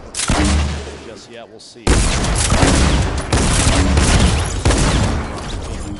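Gunshots and explosive booms in a PS4 battle royale video game crash in loud, repeated bursts with sharp onsets, while a voice speaks briefly over the din.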